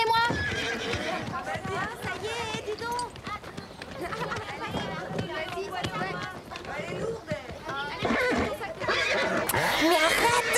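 Horses neigh and whinny repeatedly while hooves clip-clop nearby as the animals are loaded for a show-jumping competition, with people talking over the commotion throughout.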